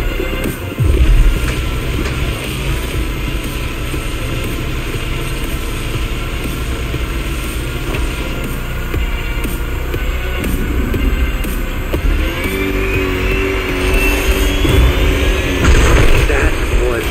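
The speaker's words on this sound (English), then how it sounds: "Look at those 250 kilowatt engines at work." Electric car motors in The Crew Motorfest racing game, a dense continuous whine and roar of high-power 250-kilowatt electric drive with rising pitch sweeps toward the end, loud and unbroken throughout.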